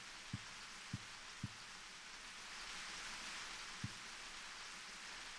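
Shower water runs as a steady hiss in Silent Hill 4, fairly quiet and continuous, with a few soft low thumps scattered through it.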